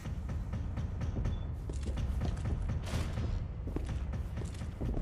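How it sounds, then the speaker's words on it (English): Creaking doors and mechanisms in the survival horror game Resident Evil 2 Remake: faint, scattered creaks and soft thumps recur against a dense, murky game soundscape, with no talk. "I'm hearing doors opening, though."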